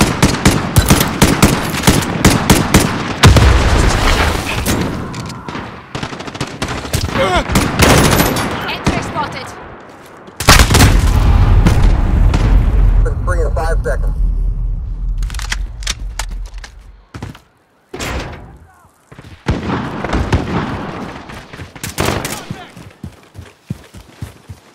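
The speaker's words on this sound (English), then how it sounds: "Enemy shooting." Enemy gunfire in Call of Duty Modern Warfare, loud bursts of automatic fire and single shots coming in clusters, with heavy booming stretches and short quiet gaps between volleys.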